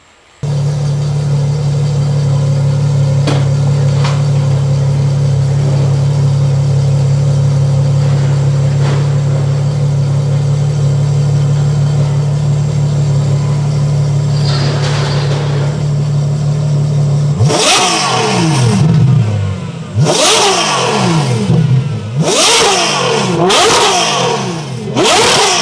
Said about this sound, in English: a convertible with a Ferrari V12 naturally aspirated sound